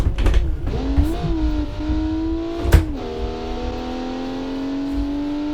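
A late-1990s budget performance car engine revs while driving in BeamNG.drive, its pitch rising and dipping through gear changes with a sharp clunk midway, then settling into a steady higher drone; close and fairly loud, no voices.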